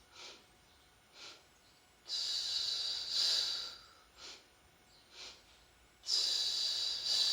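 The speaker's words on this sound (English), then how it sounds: "I'm going to use a pulse breath. That means I'm going to use 2 inhales, 2 exhales." Pulse breathing, two quick inhales followed by two exhales, close and soft with sharp hissing breaths separated by quiet gaps.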